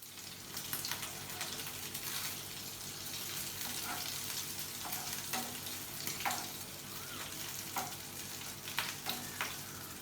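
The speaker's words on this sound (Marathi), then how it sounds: "तळून घेणार आहोत, शॅलो फ्राय करून घेणार आहोत" Homemade burger patties shallow frying in oil in a pan, a dense crackling sizzle throughout with intermittent spatter pops and light spatula scrapes, close and even, nobody speaking.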